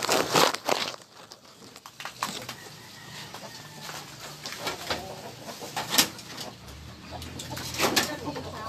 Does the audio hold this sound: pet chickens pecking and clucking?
yes